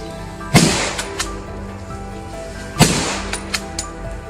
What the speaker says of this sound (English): From the perfect ambush spots, we unloaded a volley of shots.